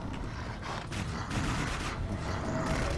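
Rapid bursts of gunfire in the video game Clive Barker's Jericho crackle and rattle in dense volleys, loud and continuous with mechanical clatter mixed in.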